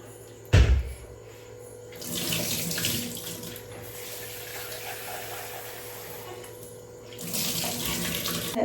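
Tap water runs while something is washed, a steady hiss rising in two louder bursts of splashing flow, with a sharp knock near the start.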